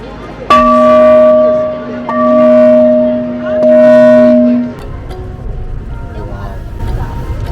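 A temple bell at the Jade Emperor Temple in Ho Chi Minh City is struck three times, each loud ringing tone lingering for about a second over a noisy background of crowd chatter.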